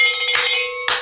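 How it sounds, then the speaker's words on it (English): A single handbell rung during a live shopping show gives a bright, sustained metallic ring close up, followed by a second sharp strike just before the clip ends. "Ring the bell for the promo code."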